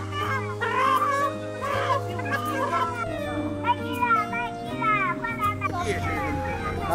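Hens cluck and chatter at a market stall selling home-raised chickens. The clucks come in short bursts mixed with people talking close by.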